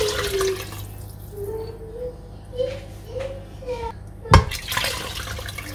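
About one and a half litres of water is poured into a cooking pot in a home kitchen, a steady close splashing and gurgling stream under background noise, ending with a sharp knock of the pot.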